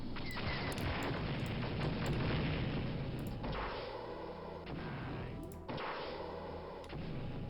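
Repeated missile blasts in Star Wars: Dark Forces on the Arc Hammer mission, heavy booming explosions rolling over one another in a loud continuous barrage with sharp cracks and crashes, no talking.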